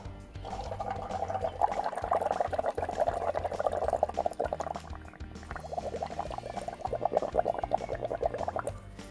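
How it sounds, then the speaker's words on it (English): Bubbling gurgle of breath blown through a straw into a cup of colored paint water, a steady close burble running in two long stretches with a brief pause between. "Then you're gonna take a straw and you're gonna blow."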